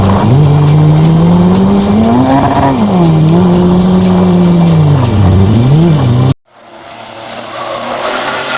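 A race car's engine screams at high revs with a wavering pitch during a handbrake turn with tire squeal in motorkhana driving, then cuts off abruptly, leaving a rising wash of noise.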